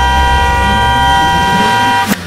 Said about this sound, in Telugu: వెనకాల నుంచి ఎవరన్నా హార్న్ కొట్టాడు అనుకోండి